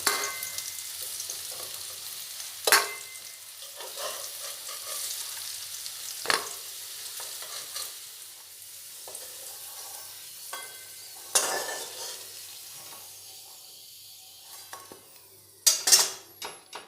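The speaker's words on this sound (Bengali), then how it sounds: "আলুগুলো লাল করে ভেজে নিয়েছি" Potatoes frying golden in mustard oil, a soft background sizzle punctuated by a few sharp clinks and scrapes of a utensil on the pan, no voices.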